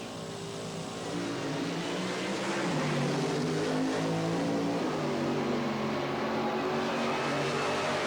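1977 drag racing cars leaving the line together at the Springnationals, a loud sustained engine roar that swells within the first second and holds steady, distant and crowd-free, with no talking.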